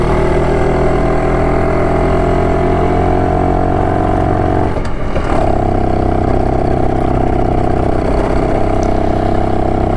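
A BSA Bantam motorcycle engine runs steadily and loudly up close throughout, its note dipping briefly midway before settling back into a continuous drone; the engine is struggling at full throttle.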